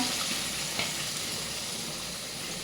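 Chicken curry with water sizzles and fries in a pan while being stirred, a steady close crackle with a brief scrape of the spoon, no talking.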